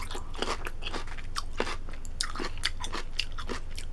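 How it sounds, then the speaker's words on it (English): Crisp bites and crunches into a homemade refrigerator pickle, a quick series of sharp crunching snaps followed by chewing, close to the ear. "Okay, I'm gonna crunch it."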